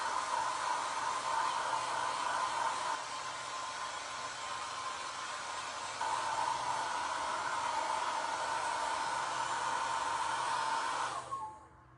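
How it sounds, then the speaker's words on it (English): A blow dryer runs steadily with a loud, airy whoosh, dipping slightly in pitch midway before switching off at the end. "you don't hear the blow dryer"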